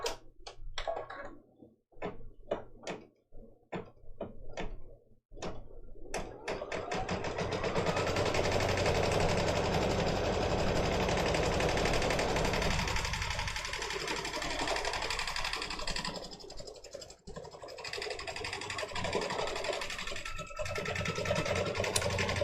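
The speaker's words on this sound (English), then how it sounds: "It's going to do a tack down stitch of the fabric so the fabric doesn't shift around" An embroidery machine runs a tack down stitch and then moves straight into background quilting, starting with a few sharp ticks before settling into a loud, continuous mechanical hum that carries on steadily.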